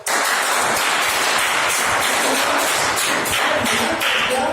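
An audience applauds at a training session, steady dense clapping that stays loud and continuous from start to finish with no voices over it.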